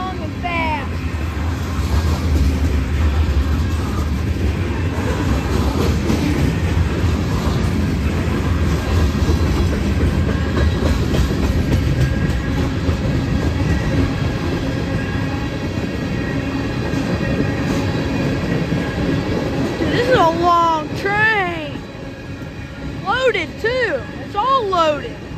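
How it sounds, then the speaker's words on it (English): A long, fast, fully loaded freight train rumbles and clatters past steadily, with sharp wheel squeals toward the end while people talk over the noise. "This is a long train, guys."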